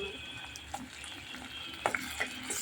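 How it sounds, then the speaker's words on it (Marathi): Ground green masala stir-fried in hot oil for a black val (black ghevda bean) usal: soft, steady frying hiss under close spoon scrapes and a few sharp metallic clinks against the pan. "हा हिरवा मसाला घालणार आहोत"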